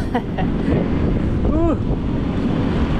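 Strong wind roars steadily across the microphone, a dense continuous rush, with a brief voice-like call rising through it midway.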